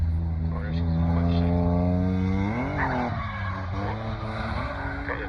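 A BMW drift car slides sideways around the Golspie kart track, its engine droning loudly and rising in pitch before dropping, with tire squeal mixed in and a voice commentating over it.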